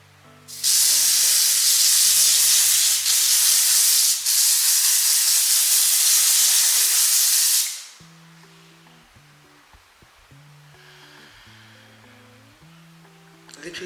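A loud, steady hiss of makeup setting spray for about seven seconds, briefly interrupted, then stops; soft music continues quietly underneath.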